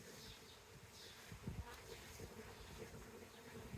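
A honey bee swarm rescued at Union Market in Washington, DC hums in a steady, faint buzz during a hive inspection, with a few louder passes of single bees close by.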